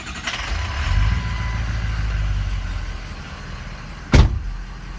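Diesel engine idling unevenly, a low steady rumble with slight surges, ending in a brief sharp knock or clunk near the end.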